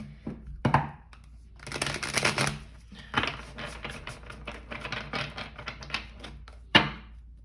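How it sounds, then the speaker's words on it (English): A thick tarot deck is shuffled by hand, with crisp bursts of riffling and papery clicks in uneven clusters, close and fairly quiet, with no talking over it. "And this is a thick deck, so I need to shuffle over here."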